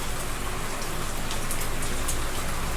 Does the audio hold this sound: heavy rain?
yes